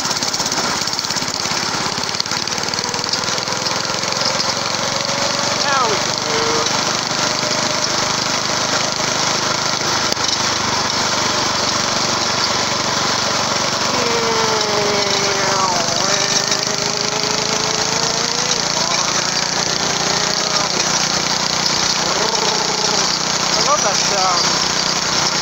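A homemade scrap cart's small engine runs steadily and loudly up close for the whole stretch, a rough, buzzing drone with gritty rattling and occasional grinding overtones, while faint voices come and go underneath.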